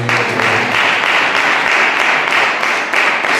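Congregation clapping during a Sunday church service, dense and loud applause sustained throughout, close and even with no speech over it.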